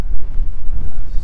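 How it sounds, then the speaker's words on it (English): Strong wind gusting across the microphone on a mountain trail near Dawson Saddle, a loud low rumble buffeting unevenly for a moment. "It's getting a little windy."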